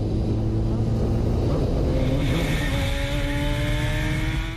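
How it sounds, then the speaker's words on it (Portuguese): A motorcycle on a city avenue revs hard and accelerates at high speed, its loud engine note climbing steadily in pitch over dense traffic noise. "ele perde o controle e torna a acelerar a moto"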